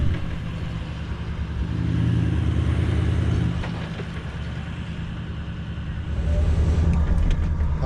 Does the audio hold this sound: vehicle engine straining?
yes